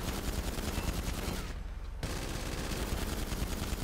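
Video game gunfire as continuous rapid shots crackle densely and loudly, with a brief half-second drop-out before the barrage resumes.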